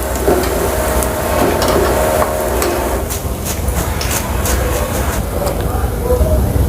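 Pieces of sun-dried beef are scooped out of hot frying oil into a strainer to drain, with dense continuous sizzling and scraping, clinks of the scoop, and a person talking over it.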